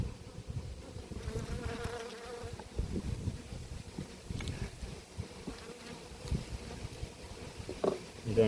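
Honey bees buzz steadily around an apiary hive during an inspection, a dense droning hum of many insects close by that swells and fades without pause and carries no speech.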